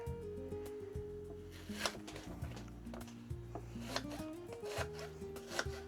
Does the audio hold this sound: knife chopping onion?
yes